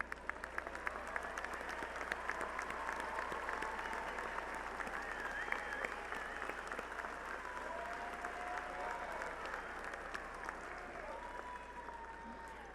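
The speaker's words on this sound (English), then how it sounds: "Will the grandparents of our candidates please stand and receive our applause?" A large audience at a Lamar University College of Arts & Sciences commencement applauds grandparents, sustained crowd clapping heard from a distance with a few faint whistles, unbroken for over twelve seconds.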